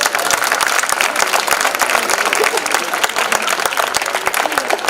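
A big round of applause from an audience at an entertainment event, dense rapid clapping with some crowd noise, steady and fairly loud throughout.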